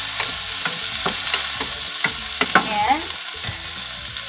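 Onions and tomato fry in a pan with a steady bright sizzle, broken by repeated scraping stir strokes of a utensil against the pan; a single word is spoken briefly.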